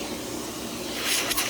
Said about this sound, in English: it also runs super quiet in that mode. In fact, I can turn this on and demonstrate that I can still talk normally.